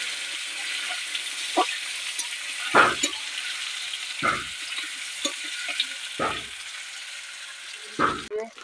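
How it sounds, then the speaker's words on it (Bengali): Potatoes and onions fry in oil with a steady, moderate sizzle, interrupted every second or two by clattering stirs against the pan. "এই তেলেই আলু পেঁয়াজ ভেজে নেবো ভালোভাবে।"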